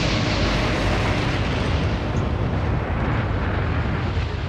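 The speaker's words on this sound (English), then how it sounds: "The devastating effect of a magazine explosion was captured on film 6 months later" The torpedoed British battleship HMS Barham, sunk by a German submarine, erupts in a magazine explosion, heard on old archival film as a dense, unbroken rumbling roar that stays loud throughout.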